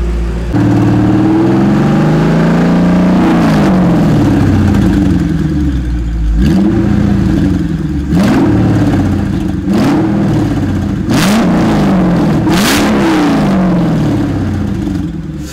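A Mercedes S-Class 5.0 V8 revs repeatedly, each blip of the throttle rising sharply and falling back to a rumbling idle through an unmuffled exhaust.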